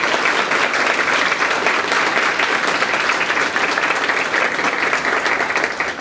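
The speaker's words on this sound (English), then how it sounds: "could you put your hands together and give them a round of applause?" An audience at an International Women's Day event claps for the morning's speakers, a dense, even roar of many hands sustained throughout at steady loudness.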